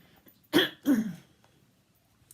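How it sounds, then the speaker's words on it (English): Two quick, close coughs in a row, followed by a moment of near silence. "I still have this fabulous little cough going on."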